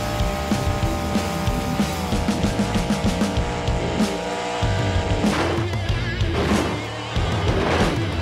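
A monster truck in BeamNG Drive revs its engine loudly and its tires squeal in repeated bursts. The sound is close and continuous, with skidding and roaring swells.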